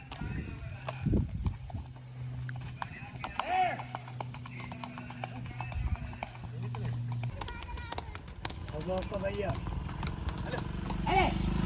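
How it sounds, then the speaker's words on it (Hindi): A mare walking outdoors, her hooves clip-clopping in a steady rhythm close by, with voices and a droning background tone over the hoofbeats. "अब मैं आपको घोड़ी चलाकर दिखाता हूं।"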